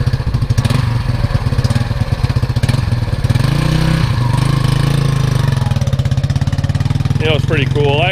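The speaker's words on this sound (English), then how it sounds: "We'll swing it around here and let you see it run a little warm up for a second" A 1975 Honda XL175 motorcycle engine runs at a warm-up idle outdoors on grass, loud and close with a steady thumping putter and a brief rise in revs, and a few short chirps near the end.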